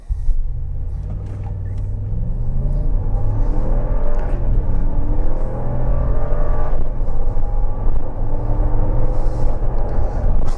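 2022 Jeep Wagoneer Series II SUV with a Hemi V8 accelerating hard, a steady loud engine drone rising in pitch through the gears over road rumble, heard from inside the cabin.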